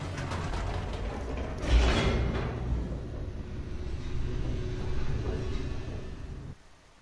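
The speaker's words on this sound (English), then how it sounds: "The elevator raced downward, plummeting towards an unknown fate." An elevator in The Stanley Parable descends with a steady mechanical rumble and grinding, creaking rattle, a heavier clunk near the start, running fairly loud and continuous before cutting off abruptly at the end.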